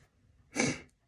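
A single short sneeze, close and fairly loud, alone in a quiet room.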